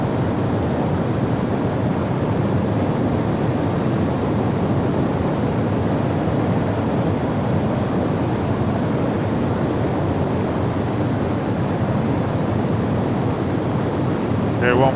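Steady roaring engine noise from a B-1 bomber at full power on its takeoff roll in MSFS 2020, a dense continuous broadband rumble held at constant loudness throughout.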